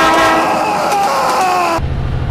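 A train passing on a railway line in winter, its horn sounding loud and close with steady rumbling, cutting off abruptly near the end.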